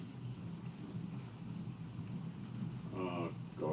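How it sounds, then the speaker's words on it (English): Thunder rumbles far off as a low, steady roll during a storm, with rain noise beneath it and a brief human sound near the end. "That's more thunder, but it's far away, so that would mean that the storm is moving."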